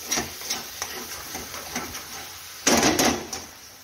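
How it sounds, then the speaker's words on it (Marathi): A masala of coconut, peanut and tomato paste fries for bhindi curry, with soft sizzling under repeated stirring and scraping knocks in the pan, plus a louder clatter near the end. "तर 1-2-3 मिनिट आपण हे सर्व मसाला मस्त फ्राय करून घेणार आहोत"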